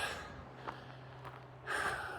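A hiker climbing uphill at around 6,500 feet of elevation gasps for breath, heavy close breaths with a strong inhale at the end, over steady outdoor background noise.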